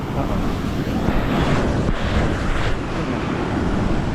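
Waves wash and break on a coral beach at South Point, Hawaii, in a continuous roar, mixed with heavy wind buffeting the microphone.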